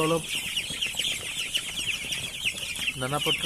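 Nine-day-old broiler chicks chirp nonstop in a shrill, busy chorus with clucking, close and lively, and a person speaks briefly at the start and end.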